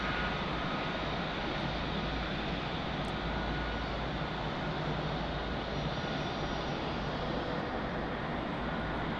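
An American Airlines Boeing 777 taxis at Munich Airport, its jet engines producing a loud, constant broadband roar that persists without a break, heard from nearby with no voices.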